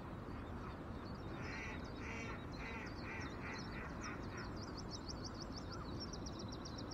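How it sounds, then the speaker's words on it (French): A small duck caught in a fishing line on a canal quacks in a short run of calls. The calls are faint beneath steady outdoor noise, then fade out. "Un petit canard."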